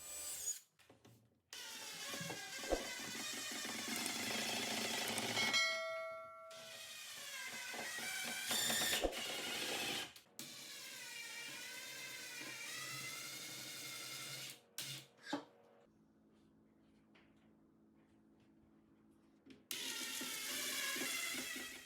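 RTA kitchen base cabinets being fastened together and into wall studs with a power driver, with repeated bursts of whirring and ratcheting separated by pauses and handling clatter, close and moderately loud.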